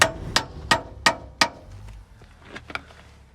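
Four sharp metallic hammer taps ring out in an even rhythm on the CV axle of a 3rd-generation Toyota 4Runner, followed by a few fainter knocks, close and loud with no talking.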